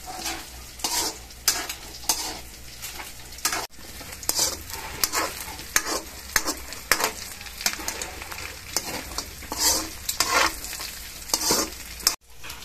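Meat browns in hot oil in a pan for pancit canton guisado, giving a steady close sizzle with repeated scraping stir strokes and light clatter of a utensil against the pan, with no talking.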